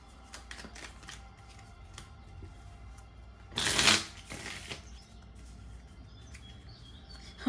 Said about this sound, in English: Actually, I want to shuffle a little bit more.